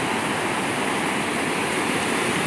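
Ocean waves surging onto a sandy beach at high tide, a steady, loud, continuous roar of surf and wash with no voices.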